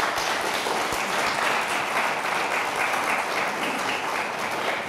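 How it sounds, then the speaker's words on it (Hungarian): Audience at a music school student concert gives sustained, even applause, many hands clapping in a dense continuous patter for several seconds without talk. "egy nagy tapsot"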